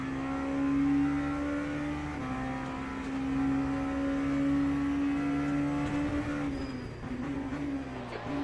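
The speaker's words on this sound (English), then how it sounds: "V8 engine that these cars use." In F1 25, a V8-powered race car holds a sustained high-rev engine note, rising gradually then dropping as it backs off, a loud unbroken buzz heard alone.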